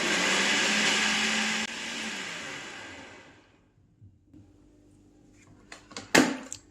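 A blender churns cream and ice into homemade butter with a loud, steady whirring roar that winds down and stops, followed by a few close knocks and clatters.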